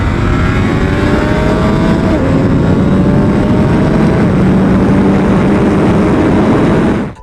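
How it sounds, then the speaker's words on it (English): A race motorcycle's engine roars loud and close in one sustained blast, its pitch climbing and shifting as it revs, before cutting off abruptly at the end. "take a listen to my race bike"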